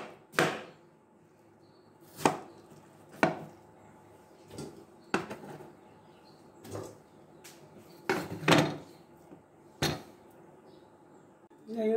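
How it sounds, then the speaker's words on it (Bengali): A knife chops watermelon for juice in sharp, irregular cuts spaced a second or two apart, fairly close and quiet between strokes, with no speech. "তরমুজ দিয়ে জুস বানাবো, এভাবে কেটে দেব,"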